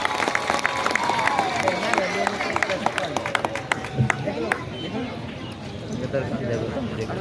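A crowd welcomes Railway Minister Ashwini Vaishnaw in Betnoti with steady, dense clapping mixed with voices and ululation, a busy, continuous roar of hands and cries that holds for the whole stretch with little letup.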